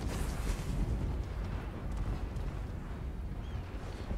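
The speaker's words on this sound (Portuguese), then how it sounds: "eu sei que a Queen Bess vai dar um tiro absurdamente forte" In a pirate-themed video game, the Queen Bess cannon fires a huge explosive shot, heard as a dense, rumbling blast and roar that fills the whole stretch with no clear end or gaps.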